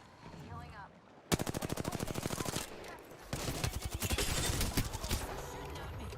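Rapid automatic gunfire from a first-person shooter video game, two dense bursts of fast regular shots that sound loud and close, with a game character's voice heard in the background.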